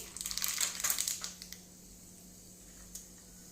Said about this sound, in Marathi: आता तेल आपलं तापलेलं आहे याच्यामध्ये आपण टाकूयात मोहरी